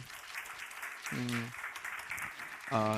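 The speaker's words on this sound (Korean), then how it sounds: "박수해 주십시오" Church congregation applauding visiting missionaries, moderate clapping heard under a voice speaking through a microphone.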